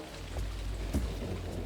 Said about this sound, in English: the rain is a boon for the workers